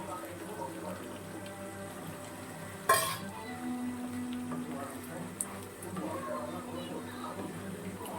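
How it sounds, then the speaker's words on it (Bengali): Cubes of paneer and onion fry in melted butter in a home kitchen pan. A steady, soft sizzle runs throughout, broken once by a sharp clatter of a utensil. "এবারে আমি পনির আর পেঁয়াজটা দিয়ে দিচ্ছি।"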